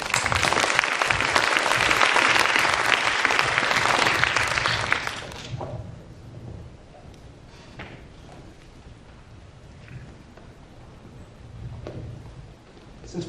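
Audience applauding at an MIT Enterprise Forum panel event in Hong Kong as four speakers come up, a loud dense burst for about five seconds that cuts off abruptly, leaving a quiet room with faint shuffling.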